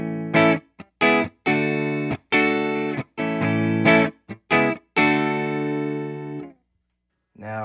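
Electric guitar played with a clean tone through effects such as reverb and delay, a series of short, bright chords and plucked notes with gaps between them, ending with one longer ringing chord.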